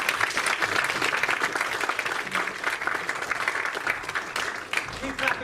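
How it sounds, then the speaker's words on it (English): An audience at a tech conference claps after a talk, a dense and sustained round of applause with some voice mixed in beneath the clapping. "Keep clapping, folks."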